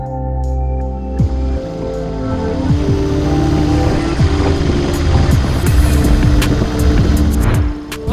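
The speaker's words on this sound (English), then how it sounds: "We are definitely a destination for a lot of the motorbike riders, as you can hear in the background." Motorbikes ride past on the Beechmont road on Queensland's Beechmont Loop, their engines droning loudly with rising and falling pitch as several machines pass close by in steady succession, with no talking.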